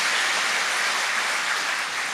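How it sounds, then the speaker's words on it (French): A crowd applauds in the Ivorian National Assembly chamber after legislative elections, producing dense, continuous clapping that stays loud and even throughout, with no voices over it. "on peut applaudir"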